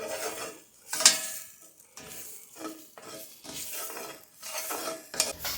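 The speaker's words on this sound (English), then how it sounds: "Just keep stirring, keep mixing until it's no longer white." Flour being stirred in a pan while cooking a mushroom gravy, a steady scraping and rustling of utensil against pan with faint sizzling, clattering in uneven bursts close by.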